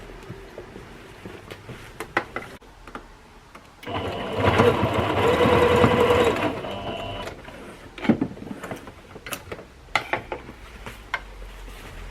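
Sewing machine stitching around a back pocket on a pair of shorts, a steady whirring run of a couple of seconds framed by scattered clicks and handling taps of fabric and machine.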